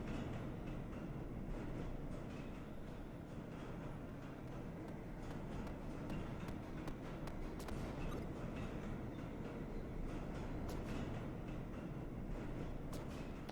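A subway train rides along in the game Subway Midnight, a steady rumbling rattle of wheels on track with occasional faint clicks and squeaks, continuous and fairly close throughout.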